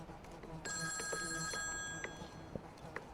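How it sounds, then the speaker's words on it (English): A telephone bell rings in a tabletop roleplaying session, a bright trilling ring sounding for about a second and a half, followed by a few faint clicks and soft taps in a quiet room. "The phone keeps ringing."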